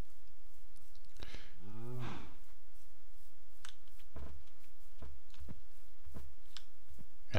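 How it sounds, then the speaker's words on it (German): A cow moos once in the video game Minecraft, a short drawn-out low call among scattered clicks and soft footstep-like taps, with no talking. "Kühe haben wir viele hier"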